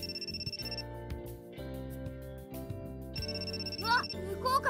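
A phone rings with an incoming call in the horror visual novel Amnesia, a repeating electronic ringtone that comes in two bursts over a soft music background.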